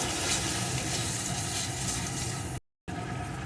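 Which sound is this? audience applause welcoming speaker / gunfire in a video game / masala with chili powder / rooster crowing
masala with chili powder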